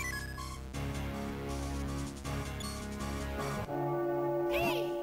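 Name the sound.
bell tolling in The Legend of Zelda: The Minish Cap video game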